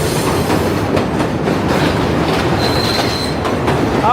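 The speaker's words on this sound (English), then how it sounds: "Probably what, the 7 train above us?" An elevated 7 subway train in New York rumbles loudly overhead, a continuous roar of wheels on the rails with clattering joints and brief metallic squeals, and no voices.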